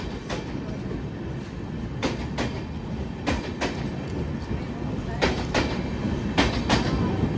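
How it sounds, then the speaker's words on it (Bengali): A Kanchanjungha Express LHB train pulls out of Pakur station, its wheels clicking over rail joints in repeated sharp bursts above a steady rolling rumble, heard from inside the coach. "অবশেষে আমাদের ট্রেন ছেড়ে দিল পাকুড় রেলওয়ে স্টেশন"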